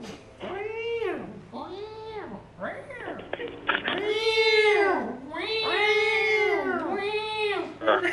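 A man imitates a cat, voicing a string of drawn-out meows one after another, loud and close, with a steady low hum underneath.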